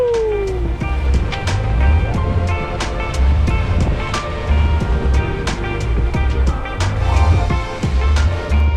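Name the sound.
sailboat moving through ocean waves under sail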